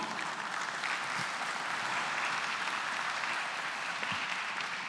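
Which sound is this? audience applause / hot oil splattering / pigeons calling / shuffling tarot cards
audience applause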